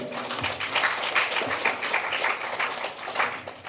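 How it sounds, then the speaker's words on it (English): An audience applauds at a temple gathering at Bhuvaneshwar Mandir during a Jayanti celebration, with a dense, steady patter of many hands clapping throughout. "Give them a round of applause, everybody."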